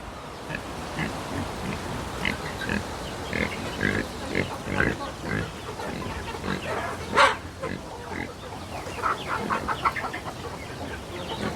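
Pigs grunt and squeal repeatedly close by, mixed with chickens clucking and a rooster in a busy farmyard, with faint human voices now and then.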